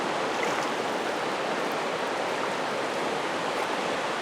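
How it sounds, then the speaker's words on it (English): The Ohanapecosh River at Mt. Rainier National Park runs fast and high, producing a constant, dense rushing roar of water that stays loud and unbroken throughout. "we've never seen the Ohanapecosh flowing like this."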